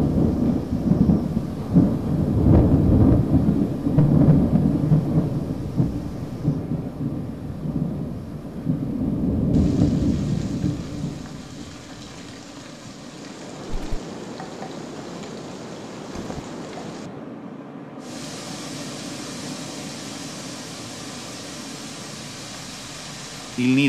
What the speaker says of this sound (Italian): Temporali, anche molto violenti, possono scatenarsi all'improvviso.